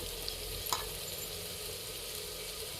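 Chicken curry sizzles steadily in oil in a clay pot over a wood fire outdoors, with a faint scrape of stirring partway through.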